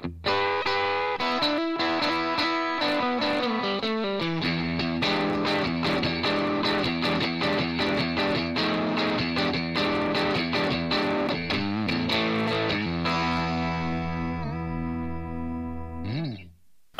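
An electric guitar plays through a Carvin Vintage 16 amp, its driven, distorted tone shifting as the 3-band EQ is varied. Dense chords and riffs run continuously and loud, ending on a sustained note.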